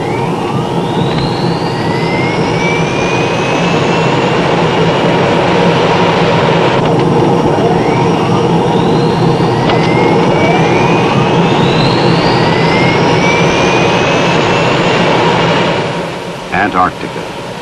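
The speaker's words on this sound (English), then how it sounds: "Yeah, that's my airplane." Navy aircraft jet engines roar loud and steady, with rising and falling whines sweeping across them and a voice speaking over the noise.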